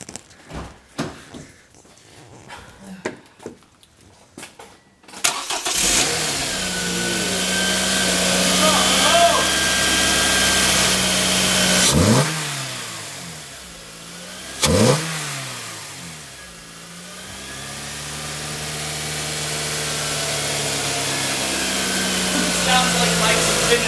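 A 2011 Scion xB fitted with a K&N performance intake revs up hard after a quiet start, holding a loud, close engine roar that sags and surges through several throttle blips.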